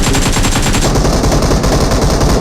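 Rapid bursts of automatic gunfire in the video game Free Fire rattle continuously, loud and close, with a tight repeating rhythm and no voices.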